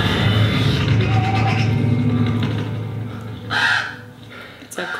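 A crow caws once, fairly close and loud, over a steady background drone, with a second brief call near the end.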